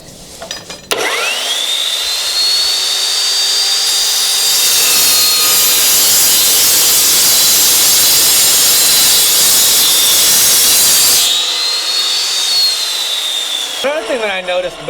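An Evolution chop saw spins up with a rising whine and then cuts through metal in a loud, sustained abrasive grind for about ten seconds before winding down.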